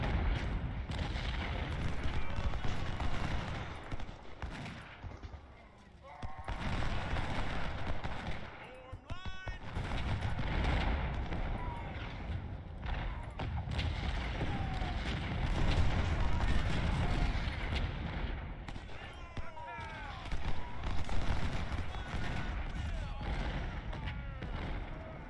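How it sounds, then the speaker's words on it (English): Booming counter-battery artillery volleys from the Ultimate General: Civil War video game roll on in repeated heavy blasts, with rumbling low thuds and crackling musket fire under ongoing battle noise. "Let's get some counter battery fire going."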